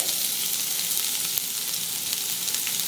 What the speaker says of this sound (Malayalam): സവാള നല്ല സോഫ്റ്റ് ആക്കി എടുക്കണം.